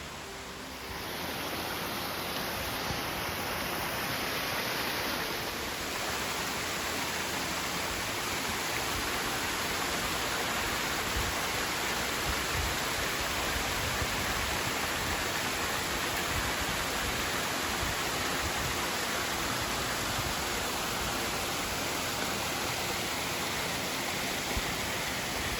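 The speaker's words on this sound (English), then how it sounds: "I'll get some pictures and more video of that little waterfall we've got up here to look at." A small waterfall beside a hiking trail, a steady, dense rushing and splashing of water that continues unbroken and fairly close for the whole stretch, with no voices.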